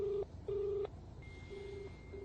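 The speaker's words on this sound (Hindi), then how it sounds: "दूसरी बार फोन लगाया ई वार्ड के वॉर रूम में, किसी ने फोन नहीं उठाया।" Telephone keypad tones beep as a number is dialed, two longer tones followed by fainter shorter ones over a low background hum, while calling a hospital ward war room in Mumbai.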